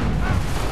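Gunfire in Assassin's Creed 3, a dense, booming blast of shots, loud and close, filling the brief moment with heavy low rumble and no talk.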